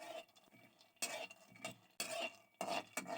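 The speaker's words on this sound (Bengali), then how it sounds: "আর এখানে হচ্ছে কাঁচা বাদামগুলো আমি ভালো করে ভেজে নিব।" Raw peanuts dry-roasted in a pan without sand, stirred with a utensil, give repeated scraping and rattling bursts at irregular intervals, faint and close, with no talk.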